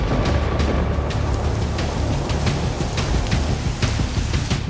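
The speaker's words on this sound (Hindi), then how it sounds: "लाहौर में मूसलाधार बारिश से जल थल एक" Torrential monsoon rain pours down in Lahore, a dense continuous roar with scattered sharper splashes and patters throughout, loud and close, with no voices.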